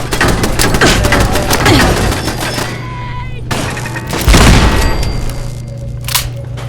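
Rapid bursts of gunfire and heavy booms fill a firefight in the video game Fallout 4, loud and near, with overlapping shots and explosions throughout and no voices.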